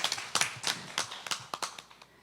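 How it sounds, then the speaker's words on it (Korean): A small audience at a community forum gives a few scattered handclaps, about a dozen sharp claps over two seconds, thinning toward the end. "박수로 모시겠습니다"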